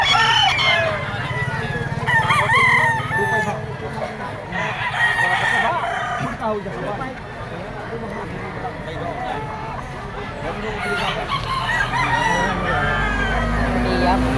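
A yellow-legged Picom stag at a poultry market crows repeatedly, fairly close. Other fowl cluck around it, and people talk throughout.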